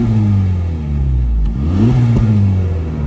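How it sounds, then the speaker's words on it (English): A 2024 Honda Civic Type R FL5 with a triple exhaust revs up, its engine note climbing and falling in a couple of rising sweeps, fairly loud and close with no talking. "the iconic triple exhaust, which sounds a little quieter compared to that of the FK8"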